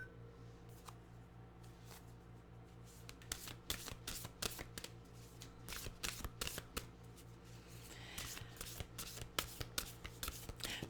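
A deck of Nature's Whispers oracle cards is riffled and shuffled by hand, producing a long run of dense papery flutters and snaps. The sound is close and fairly quiet and carries on steadily without any talking.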